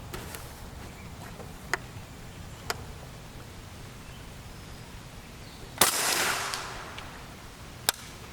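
A PS90 SBR with a 10.3-inch barrel firing 5.7x28mm copper hollow point rounds: one loud sharp report with a brief ringing tail, plus a few lighter sharp clicks or distant shots around it, outdoors.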